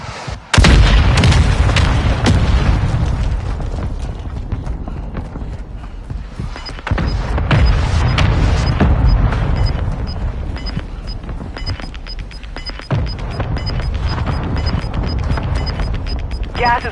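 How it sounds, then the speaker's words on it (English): Mortar strike explosions in a battle royale video game, a loud sustained barrage of booming blasts and heavy impacts rolling continuously through the stretch, with no talk. "Target marked. Copy that. Mortar strike inbound now."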